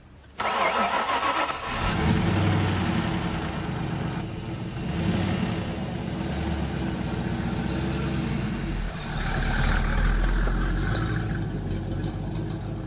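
A Ford Mustang V8 cranks and fires up, settling into a loud, steady, rumbling idle close by, with its pitch rising and falling slightly as it runs.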